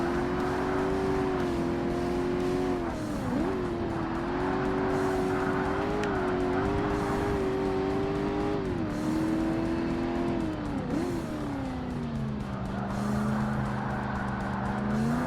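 A sports car races in Forza Motorsport on Xbox, its engine loud and steady with pitch rising and dropping through gear shifts and corners, brief tire squeal, no talk.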